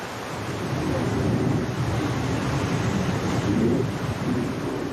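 Ocean waves roll in on the Côte d'Argent coast where kitesurfers ride, a continuous deep, rushing roar of surf that swells and eases slightly, heard alone without voices.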